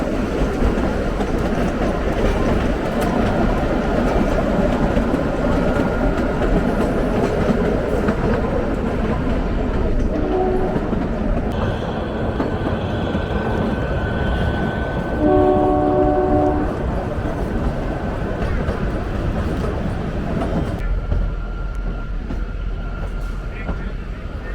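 The Kalka to Shimla toy train rumbles along its narrow-gauge mountain rails, a loud continuous roar of wheels and carriages with brief horn tones partway through, before the noise drops near the end.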